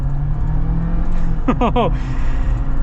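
A 2023 Jeep Wrangler Rubicon 4xe pulls away quickly, heard from inside as a loud, steady low drone, with a brief voiced exclamation partway through.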